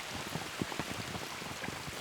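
Rain falls beside a river, a soft, continuous patter of drops with small irregular splashes close by, heard on its own without speech.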